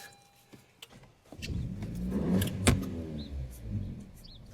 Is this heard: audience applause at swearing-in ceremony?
no